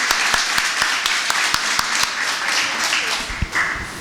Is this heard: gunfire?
no